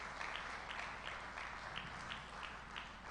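At a World FM Day 2022 event, an audience applauds the Honorable Minister after a speech: a steady, moderately faint spread of many hands clapping for a few seconds, a low hum underneath.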